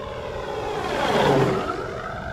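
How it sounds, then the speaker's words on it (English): Simulated propeller aircraft engine sound from an ESS Air sound system fitted to an E-Flite Carbon Z T-28 model plane, a steady droning hum that swells slightly in the middle, heard alone. "this is the ESS sound system, the ESS air sound system from A-Main Hobbies."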